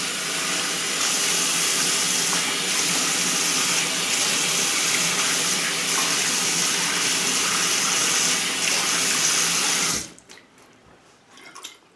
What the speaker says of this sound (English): So I'm going to rinse off and do a second pass.